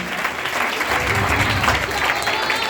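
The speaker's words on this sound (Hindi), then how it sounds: "जोरदार तालियां यीशु के जलाल के लिए" A church congregation at a Bible study gathering claps loudly, a brief, steady burst of group applause with a voice faintly over it.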